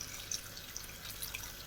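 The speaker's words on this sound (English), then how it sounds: "Just want to cover the pea pods with some of the water from the kettle that's hot." Hot water from a kettle pours over pea pods in a pot, a short, faint splashing trickle heard alone.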